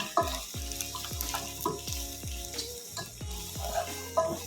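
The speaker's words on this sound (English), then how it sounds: "we're going to add in two onions, and we're going to also let those brown" Beef and onions brown in a pot with a constant sizzle, while regular clanging spoon strikes against the metal ring out roughly every half second, close and moderately loud, with no talking.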